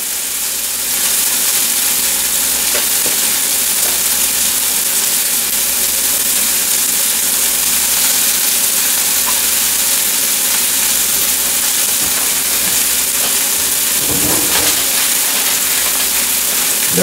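Burger patties for a mushroom Swiss burger sear in a hot pan, giving a steady, continuous sizzle that holds evenly throughout with no talking.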